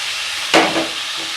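Potatoes drop into hot spice masala with a sudden loud sizzling burst, which fades over about a second into a softer hiss.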